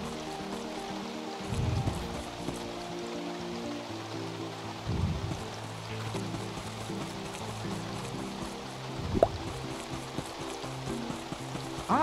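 Steady rain in the farming video game Staxel: a soft, even hiss of falling water that continues throughout beneath light background game music.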